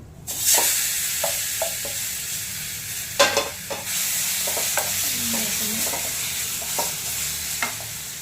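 Mashed brinjal stir-fried with ground masala in a pan for a chutney, giving a steady close sizzle broken by sharp scraping strokes of a spatula at irregular intervals, with no talk.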